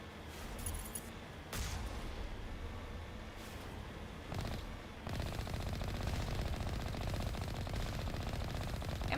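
Sustained automatic weapon fire shooting at a base in Mass Effect, rattling bursts that grow denser and steadier toward the end, fairly faint overall with a few sharper shots.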